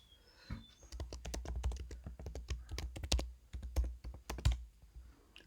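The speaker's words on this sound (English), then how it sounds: "that keyboard sound is really soothing" Steady, fast typing on a Mac computer keyboard, close up, with crisp clattering keystrokes in irregular bursts and no voices.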